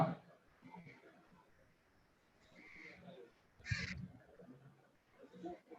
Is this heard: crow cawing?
yes